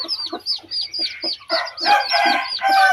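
Young fighting-breed chickens cluck in quick close bursts while a rooster crows over them, the calls crowding together and growing louder through the three seconds, with no talk.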